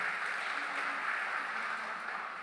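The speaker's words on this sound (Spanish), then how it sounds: "Dele un fuerte aplauso al Señor" Congregation applause in a church, a dense, steady wash of many hands clapping at once, fairly loud and unbroken for the whole moment with no voices on top.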